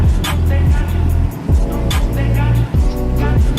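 A sports car such as a Ferrari F430, Porsche 911 or Maserati GranTurismo accelerates hard on a race track, with a loud, close engine roar climbing through the revs and dropping sharply at several quick gear changes.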